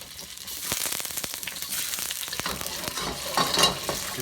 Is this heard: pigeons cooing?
no